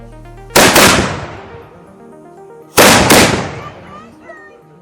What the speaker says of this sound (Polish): zobaczcie, jak to brzmiało kilka strzałów, kilka luf, mnóstwo dymu